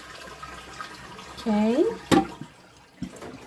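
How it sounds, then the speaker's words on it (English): A toilet is flushed to empty its tank during a Fluidmaster fill valve and flapper replacement, producing a brief gurgling rush of draining water. Someone speaks a single word just before it. "I'm going to flush, get all the water out of the tank."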